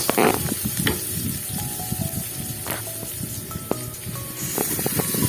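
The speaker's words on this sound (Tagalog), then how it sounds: "At pwede na nating gisayin yung ating bawang, sibuyas at kamatis." Garlic, onion and tomato with pork sizzle and fry steadily in hot oil in a pan, a loud close crackling hiss with occasional stirring scrapes, no talking.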